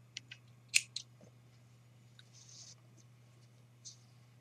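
Scissors snip crochet yarn after a chain stitch: a couple of small, close, crisp clicks, with faint handling rustles afterward and a steady low hum underneath.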